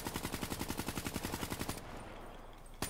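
Rapid automatic gunfire from a weapon fired from the hip in Call of Duty Black Ops 3, a steady stream of loud, evenly spaced shots for about two seconds, then a quieter tail of game ambience and one final sharp burst at the end.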